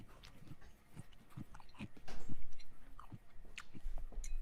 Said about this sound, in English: they can hear me munching on my rice and veggies and meat